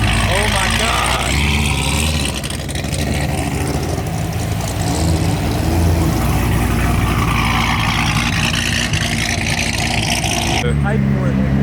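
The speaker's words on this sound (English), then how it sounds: "Late model racecraft pulling up in a few ZR1s." Modified Corvette ZR1s pull up while leaving a car show, a steady loud engine drone under constant excited talk from people nearby.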